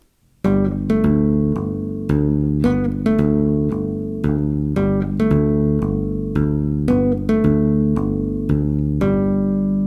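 A bass guitar plays a tapped melody in a steady dotted-eighth, syncopated rhythm, notes sharply attacked and ringing, clear and close with no voices.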